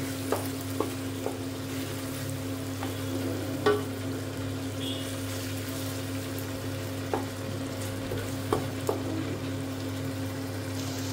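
Masala with ginger-garlic paste frying in a pan for rural-style chicken biryani, a steady close sizzle with a low hum beneath and occasional clicks of stirring, no voices.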